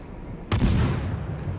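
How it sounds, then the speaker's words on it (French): A destroyer's guns fire shells in the naval game World of Warships: a single heavy blast rings out against steady background rumble, then a rolling, low echo lingers and slowly fades. "des obus qui sont lancés."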